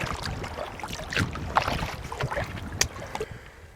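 A boat being paddled across open water, with soft splashes and paddle strokes at irregular intervals over a constant wind and water background, fairly close, and no one talking.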